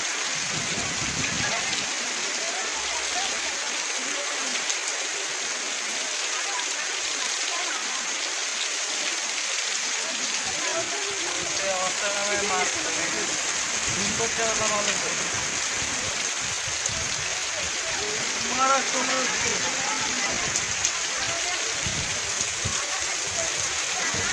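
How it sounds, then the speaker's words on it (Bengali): Steady heavy rain pouring onto a city street in Chittagong, a dense continuous hiss with splashing, while someone talks over it now and then. "বৃষ্টিতে ভিজে ভিজে মানুষগুলো কিভাবে যাইতে আছে, অনেক কষ্ট হইতেছে বৃষ্টিতে ভিজে যাইতে"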